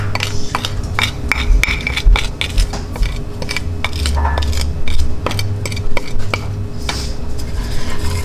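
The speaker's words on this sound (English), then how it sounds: "Mix them around." Spices being stirred into a melted mixture in a pot for creamy mac and cheese, a spoon scraping and clinking against the metal in steady repeated strokes, close and clear with a faint sizzle underneath.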